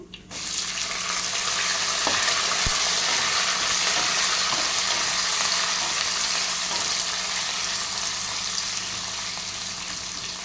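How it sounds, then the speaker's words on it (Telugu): Chopped onions, curry leaves and green chillies hit hot oil in a frying pan, setting off a loud, steady hiss of sizzling that fills the whole stretch, tapering slightly toward the end with no talking. "ఇప్పుడు ముందుగా తరిగి పెట్టుకున్న ఉల్లిపాయలు, అలాగే కరివేపాకు, పచ్చిమిర్చి వేసుకుంటున్నాము."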